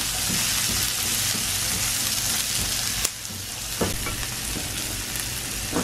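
Onions frying in a pan with lightly browned garlic for a spiced okra dish, a loud dense sizzle that runs throughout with a few sharp stirring scrapes, dipping briefly midway.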